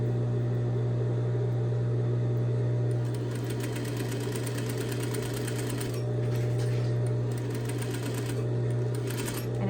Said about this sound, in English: And carefully sew my 1/2 inch seam, or I'm sorry, my 1/4 inch seam.